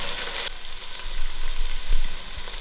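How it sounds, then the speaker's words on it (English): Masala frying in a pot with browned onions for a Durban-style lamb and lentil curry, a loud, close sizzle broken by rhythmic scraping stirs. "I throw in all my masala cooking for a few minutes, stirring in."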